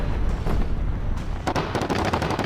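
Tank cannon and gunfire in War Thunder Mobile, a British self-propelled tank destroyer battle, with dense rapid bursts of shots growing sharper in the second half, mid-distance and loud, no talking.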